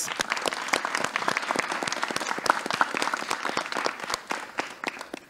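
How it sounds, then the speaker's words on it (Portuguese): An audience at a live poetry event in Brazil gives a round of applause, with sparse individual claps standing out and a moderate, uneven rhythm that thins out toward the end. "uma salva de palmas para os rapazes."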